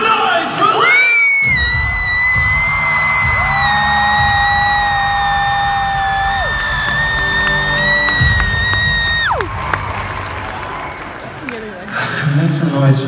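Concert crowd screaming and cheering for an act, a loud, dense roar of high shrieks and whoops that swells, holds for several seconds and then tapers off.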